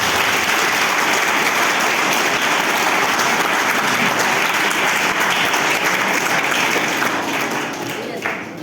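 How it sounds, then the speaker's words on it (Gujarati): An audience at a school farewell ceremony for Class 10 and 12 students gives loud, dense, sustained applause that continues throughout and eases slightly at the end. "એક વખત જોરદાર તાળીઓ કરીએ."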